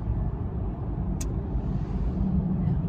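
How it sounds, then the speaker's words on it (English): Steady car traffic on a road near an exit, heard as a continuous low rumble of engines and tyres, fairly loud and unbroken, with no talk. "It's just traffic."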